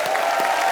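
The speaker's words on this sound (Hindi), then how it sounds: "बहुत बहुत स्वागत है राजू भाई के लिए, जोरदार तालियां।" A studio audience on a comedy talk show applauds, a brief, loud, steady burst of clapping and crowd noise heard alone.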